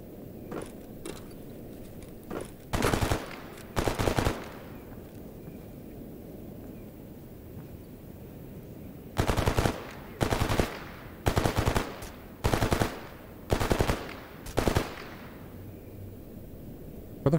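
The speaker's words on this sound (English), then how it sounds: "Where the fuck are those gunshots coming from?" Gunfire in the video game STALKER GAMMA sounds in separate bursts of rapid automatic fire, one pair early and a quick run of bursts later, set against quiet ambient forest noise.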